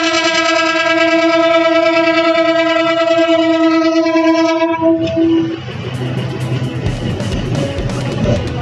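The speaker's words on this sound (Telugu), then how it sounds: "Karimnagar to Kachiguda train via Nizamabad platform number 3 నుంచి వెళ్ళి" A Karimnagar to Kachiguda passenger train pulls out of platform 3 at Nizamabad station, giving a long, loud, steady horn blast before the heavy rumble and clatter of wheels and carriages rolling away.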